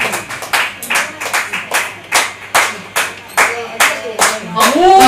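A small audience at a live music venue claps in a slow, steady rhythm, distinct loud hand claps evenly spaced as if calling for an encore, with a voice speaking near the end.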